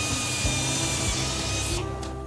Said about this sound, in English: it's straight into another mould to drill holes where the visor will be attached